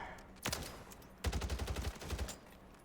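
Gunfire with dynamic recoil in COD: Warzone 3 Rebirth: a single shot, then a rapid automatic burst of roughly a dozen rounds followed by a shorter trailing burst, loud and close with no voices.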